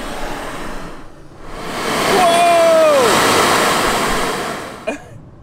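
Ocean waves surge and roar into a sea cave among lava rocks on the Maui coast, swelling to a loud rushing wash midway and then easing. A brief voice cuts through near the end.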